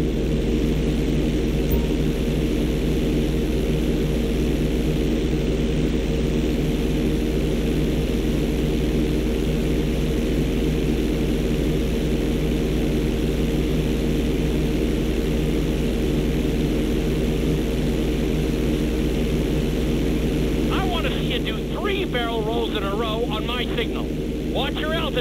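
Propeller plane engine drones steadily throughout a Grand Theft Auto 5 flight school mission, a constant loud hum with an instructor's voice talking over it and a brief burst of higher sound near the end.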